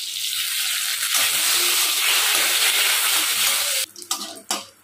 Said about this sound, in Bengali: তেলটা ভালো মতো গরম হয়ে গেছে আমি এখানে দুটো শুকনো লঙ্কা ফোড়ন দিচ্ছি